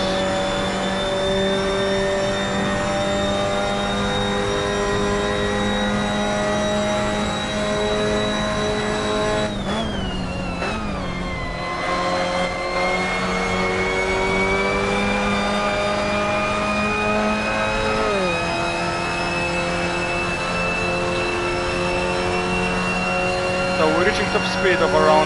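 A race car engine in Assetto Corsa screams at top speed down the start-finish straight, a steady high-pitched drone with one brief gear-shift dip midway, while a voice talks over it.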